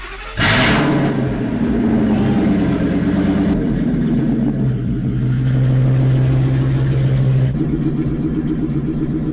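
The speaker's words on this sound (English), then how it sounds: "Before we start installing the PVC pipe, we wanna get a baseline of what this thing sounds like." A car with its stock exhaust starts with a sharp crank and catches, then settles into a loud, close, steady idle with a few small rises in engine speed.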